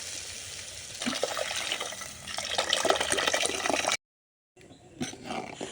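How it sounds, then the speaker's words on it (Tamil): Mashed lentil water is poured into a cooking pot of sautéed garlic, a steady close splashing for several seconds before it abruptly stops, followed by a softer sizzle and stir. "நம்ம கடைஞ்சி வச்ச பருப்பு தண்ணியை சேர்த்துக்கலாம்"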